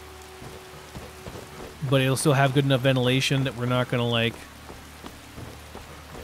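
Steady rain falls in the video game Skyrim, heard as a soft, continuous hiss throughout, with someone speaking over it for a couple of seconds in the middle.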